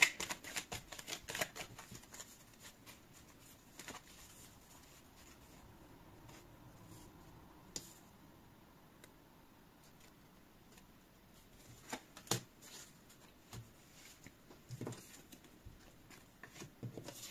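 A deck of angel oracle cards is shuffled by hand, giving soft, close riffles, slaps and rustles in irregular bursts against a quiet background.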